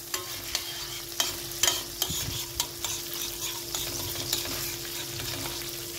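Pepper paste fries in melted butter as the base for bulgur pilaf: a steady hissing sizzle with repeated spoon taps and stirring knocks against the pan, heard close with no talk.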